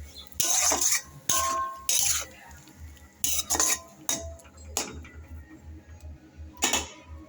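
A utensil scrapes and clanks against a pan while tender drumstick stems and vegetables are stirred, in a series of sharp, irregular metallic strokes with quiet gaps between them, close and fairly faint.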